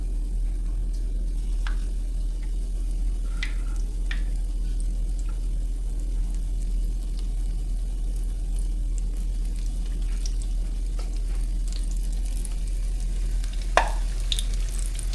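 Jamaican saltfish fritters frying in hot oil give a steady, even sizzle throughout, with occasional small pops and crackles and one sharper snap near the end; no voices.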